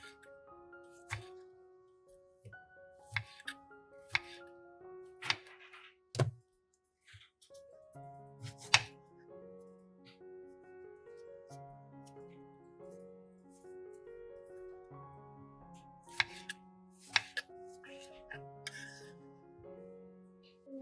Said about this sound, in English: Slice the tomatoes.